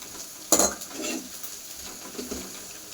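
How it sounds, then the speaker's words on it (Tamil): Ingredients for a potato kurma sautéing in a pan until golden, with a sharp clatter of a spoon against the pan near the start, then a soft, steady sizzle and occasional light stirring scrapes. "கலர் மாற வரைக்கும் நல்லா வணக்கிக்கலாம்."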